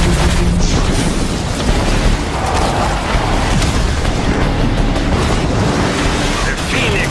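Hellfire Mortar firing and exploding in the video game RAGE 2, heard as a dense, continuous roar of booming blasts and rumbling noise with no break, loud and close.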